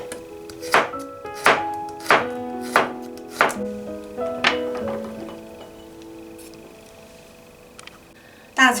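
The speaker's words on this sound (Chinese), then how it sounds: "蒜切片儿。" Garlic being sliced with a knife on a cutting board for cumin eggplant, five or six crisp regular chops close by, then the cuts fade and a quieter stretch follows before one more knock at the end.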